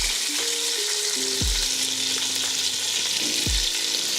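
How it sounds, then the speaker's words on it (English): Onions frying in bacon grease, being stirred: a steady, loud broadband sizzle fills the whole clip, with a couple of low scraping knocks from the spoon and faint tonal hum underneath. "Now we're gonna add our onions to this."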